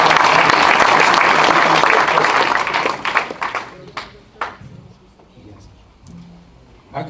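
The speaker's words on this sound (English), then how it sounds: "Let's give him a round of applause." A meeting audience gives a loud round of applause for a man who has just asked a question, dense clapping for about three seconds before it thins into scattered claps and fades.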